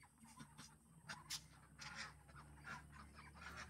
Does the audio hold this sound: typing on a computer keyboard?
no